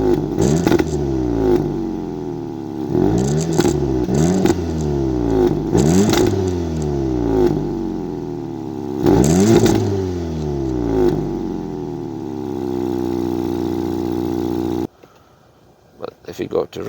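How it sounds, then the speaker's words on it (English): A car engine with its exhaust in race mode revs repeatedly in short, throaty bursts with a deep exhaust note, each rise falling away, then cuts to near silence at the end. "you can feel a little bass coming from the exhaust"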